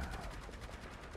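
Faint rapid automatic gunfire from Overwatch 2, a quick rattling burst of evenly spaced shots heard at a distance and fairly quiet.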